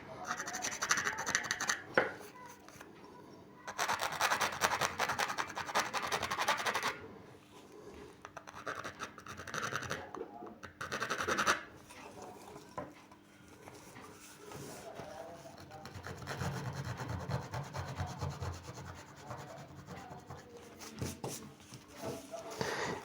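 Close, gritty scraping of a small file removing drill burrs from copper, in repeated bursts, pausing briefly between stretches of filing.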